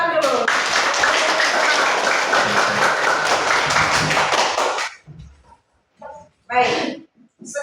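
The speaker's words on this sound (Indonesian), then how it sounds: "Tepuk tangan dulu" Classroom of students clapping together loudly for about five seconds, dense and steady, then stopping abruptly; a teacher's voice and brief chatter follow.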